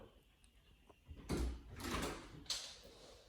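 A door is opened indoors with a faint thud, a soft sliding scrape and a later click, quiet and close, over a low room hum.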